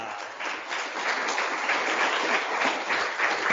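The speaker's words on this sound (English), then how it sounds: "One more round of applause for them" An audience at a full stack engineering meetup applauds its speakers, giving a short burst of dense, fairly close clapping that holds steady for a few seconds.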